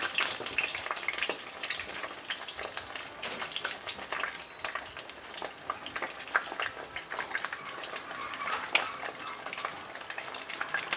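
Egg rolls frying in hot oil on an indoor stove, a steady dense crackle and sizzle of spitting oil that holds throughout at a moderate level, with no talk.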